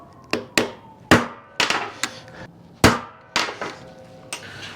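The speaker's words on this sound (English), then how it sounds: "Now, what I'm going to do is just transfer punch this." A hammer strikes a transfer punch against a metal plate being made to weld to the floor of a Chevy COE, giving eight sharp, ringing blows at uneven intervals, close and loud with no talking.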